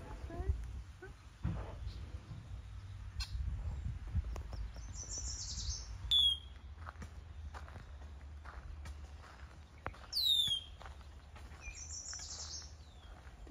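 A bird near its nest along an outdoor path gives a few short, bright chirps spaced several seconds apart, while footsteps crunch and a person talks nearby.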